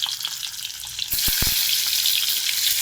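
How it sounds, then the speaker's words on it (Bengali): Eggs with scored surfaces fry in hot oil in a pan, a bright, steady sizzle that grows louder halfway through, with a few soft clinks near the start. "এই যে ভাজতে দেওয়া হলো,"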